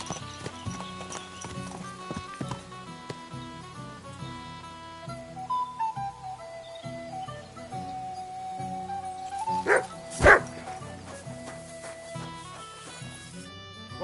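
A dog in a video game gives short barks and whimpers over a background of in-game music, with a louder yelp near the end.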